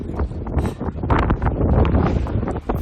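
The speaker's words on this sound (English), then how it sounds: "it's so windy I had to cover it up" Loud, gusty wind buffeting the microphone in rough, continuous rumbling bursts, with no voices.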